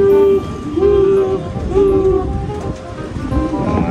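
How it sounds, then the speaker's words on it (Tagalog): Strong wind roars and buffets steadily, with a few sustained tonal whines drifting over the rushing noise. "yung video natin malakas ang hangin"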